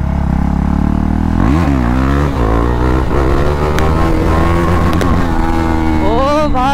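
A motorcycle pulls a top-end wheelie in second gear, its loud, close engine revving in repeated rising and falling sweeps over constant roar, with a final sharp climb at the end.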